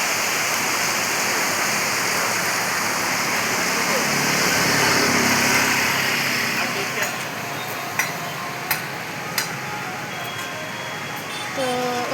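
Steady, loud rush of water pouring through a river barrage in Durgapur, a broad continuous roar heard from a small bridge, with a person talking over it and a few faint clicks.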